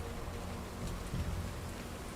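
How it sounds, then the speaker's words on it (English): Steady rain pours down over an open field at night, a dense continuous hiss with scattered drops and a faint low rumble, nothing else heard. "The four of you are laying in a field, the rain pouring down on you."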